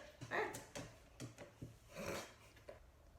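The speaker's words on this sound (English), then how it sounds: "Here comes my dog, tippy tapping." A dog walks across a hard floor indoors, its claws tapping in a quick uneven patter at close range, with a soft whine or whimper rising briefly near the middle.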